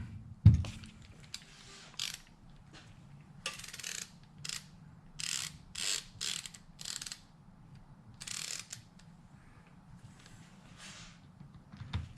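Small 4mm screws are turned by hand into the base of a Mikuni TDMR40 carburetor from a Ducati 900SS, heard as short bursts of close ratcheting clicks separated by quiet pauses, with one sharp knock at the start.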